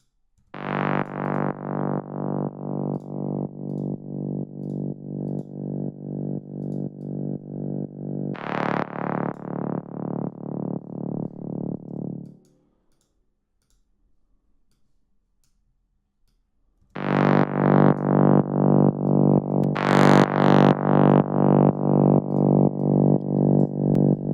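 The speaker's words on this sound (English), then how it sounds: "let's try the vinyl distortion again" A music track in a studio session plays through a vinyl distortion effect, giving repeated rhythmic ticking pulses with a crackly, degraded tone. The sound cuts out into near silence midway, then resumes louder.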